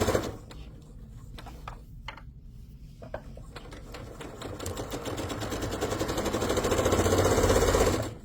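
Sewing machine running steadily as it stitches a half-inch seam around a tube of Cuddle fabric for an infinity scarf, a close mechanical whir that starts in short bursts and then builds into one continuous, louder run.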